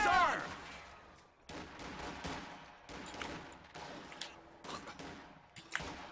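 Gunfire from infantry fighting around a building in Company of Heroes 2, heard as dense, continuous crackling volleys and scattered sharp shots over a low rumble, fairly quiet and steady throughout.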